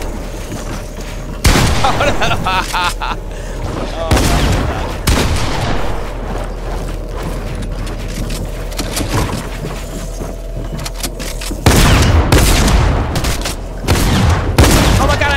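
Gunfire in Fortnite: loud bursts of rapid shots and booming blasts, with a dense stretch near the start and another toward the end, over steady game ambience, with a brief shouted voice.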